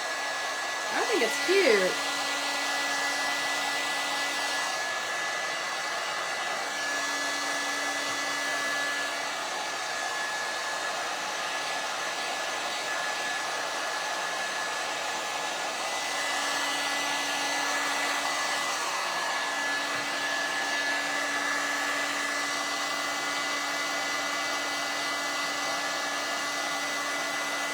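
A hair dryer blows continuously at close range over a farmhouse centerpiece coated in Mod Podge, a steady whooshing hum lasting throughout, with a brief spoken remark near the start.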